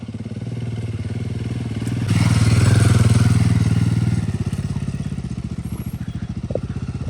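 A motorcycle rides toward the trailhead of the Shrikhand Kailash trek in India, its engine running steadily and close by, swelling louder in the middle with a rumbling surge, then easing back to a pulsing low putter.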